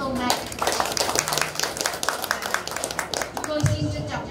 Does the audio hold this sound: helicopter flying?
no